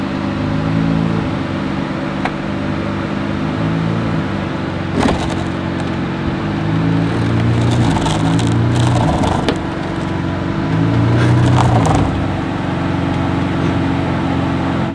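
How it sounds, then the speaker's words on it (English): A car's bumper scraping along a driveway as it drives up, with low engine rumble under intermittent grinding, crackling scrapes that cluster in the middle and latter part. "So we're just gonna drive up and scrape"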